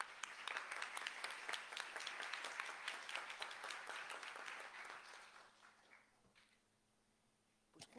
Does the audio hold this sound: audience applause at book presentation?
yes